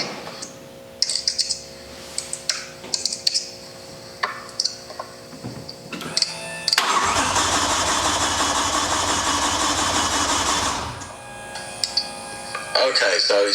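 A BMW M5 engine cranks with a ticking, rhythmic starter sound, then catches and runs loudly for a few seconds before dropping back, with clicks and voices around it.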